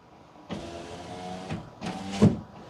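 An electric power window motor in a car runs through two strokes, the glass traveling down and then back up, each whirring burst lasting about a second with a short pause between them.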